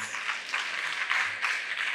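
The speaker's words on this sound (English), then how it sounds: "So let's give them a round of applause." A round of applause from the audience at an essay writing competition event, a steady wash of clapping that rises and falls in waves over two seconds, fairly quiet and without talk.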